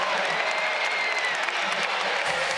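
Basketball crowd at a college game against Radford roaring and clapping after a layup, a dense, loud wash of cheering and applause throughout, with faint talk underneath.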